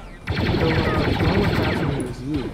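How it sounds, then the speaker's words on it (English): Gunfire in a Star Wars video game battle: a dense, continuous rattle of rapid blaster-style shots that stays loud and close throughout, with voices calling out underneath. "Enemy fire!"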